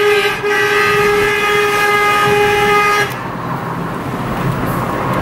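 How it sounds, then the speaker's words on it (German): A loud, sustained horn blares for about three seconds, then cuts off, leaving steady traffic-like background noise. "ich hupe"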